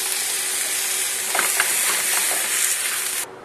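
Anchovies frying in a pan for linguine aglio olio, a loud, close, bright sizzle with a few scraping stir clicks midway, cutting off abruptly near the end.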